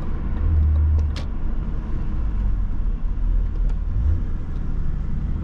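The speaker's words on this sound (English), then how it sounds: "Accompanied with that sound of the exhaust," BMW E34 525 TDS Touring diesel, remapped, driving in the city with a low, rumbling exhaust drone that swells briefly under throttle, steady and close, without speech.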